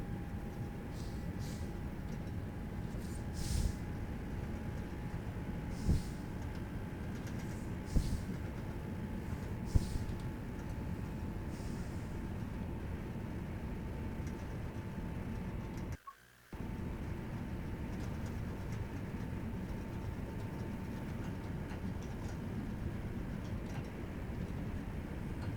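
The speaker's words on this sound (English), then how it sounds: "The train sounds decent, I think." Train running in Train Sim World 5 on the Manchester Piccadilly to Hadfield via Glossop line, a steady low rumble and drone with a faint tonal whine, a few soft clicks, and a brief dropout midway.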